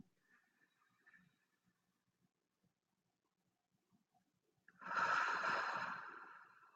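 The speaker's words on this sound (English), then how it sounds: "breathing in" A person draws one deep breath in during a guided breathing exercise. Near-silence gives way to a single loud, close, breathy inhale that swells and then fades.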